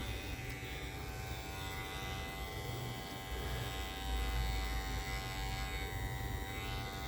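Barber's electric hair clippers in a barber shop run with a steady, close buzzing hum throughout, growing slightly louder midway, with no talking.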